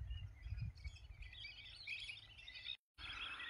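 Birds chirp and tweet beside a wetland lake at Charan Beel, Morigaon, a busy chorus of small calls at a moderate distance over a low steady outdoor rumble, with no talking.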